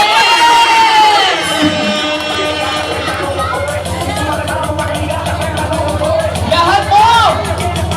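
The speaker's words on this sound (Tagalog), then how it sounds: "Isang masigabong palakpak!" Wedding guests cheer and shout together in a loud, continuous crowd roar, with whoops rising above the babble and voices calling out throughout.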